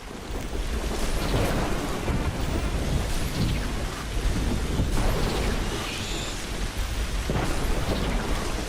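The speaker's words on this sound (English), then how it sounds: "The storm is getting really intense." Heavy rain pours down steadily in a Riftbreaker thunderstorm, with deep rolling thunder swelling several times across the nearly nine seconds, loud and continuous with no speech.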